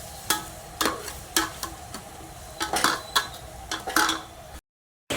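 Onions cook in a pan for pasta, a soft low sizzle punctuated by a series of spoon knocks and scraping clinks against the metal, ending in a brief silence.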